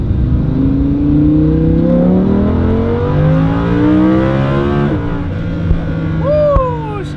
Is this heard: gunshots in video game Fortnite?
no